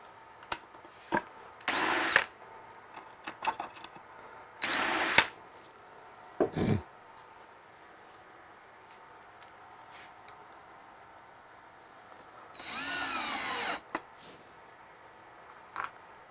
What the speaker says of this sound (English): you want to make sure you don't overdrive your screws